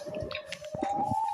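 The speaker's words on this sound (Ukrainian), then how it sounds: "Чи це сирена?" A steady electronic siren tone drones inside a survival-horror video game, faint and continuous with a slight rise in pitch, under scattered clicks and game noises.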